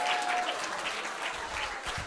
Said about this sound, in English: A round of applause for Sulman, guys.